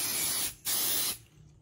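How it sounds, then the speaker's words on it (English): Two close hissing bursts from an aerosol can of spray adhesive onto the back of fabric, the first a bit longer, then the hiss cuts off into quiet. "I'll put my spray on the back"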